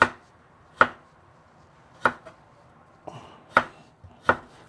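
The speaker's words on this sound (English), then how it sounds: "We will be chopping everything and the spinach before we start frying the beans." Spinach leaves chopped with a knife on a board, five sharp, well-spaced chops with quiet pauses between them and no voices.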